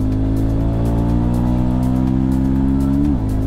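Italika Vort-X 300R motorcycle engine pulling hard to overtake, a loud close rising single-cylinder drone with wind rush that climbs steadily, then drops sharply as it shifts near the end.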